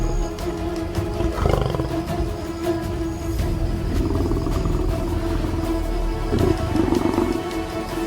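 A lioness roars out on the savannah, deep rumbling growls and snarls rising and falling in several close, powerful bursts over a steady low background.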